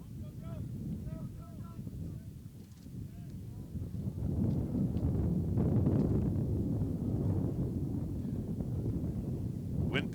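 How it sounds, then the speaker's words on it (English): Wind gusting across Jack Behringer Field during a college baseball game at Grove City, a low rumbling roar on the microphone that swells and holds steady. "Wind picking up again here at Jack Behringer Field."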